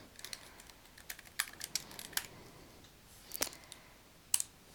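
Someone types on a computer keyboard in a quiet room, a few scattered bursts of light clicking keystrokes with short pauses between them, close and soft.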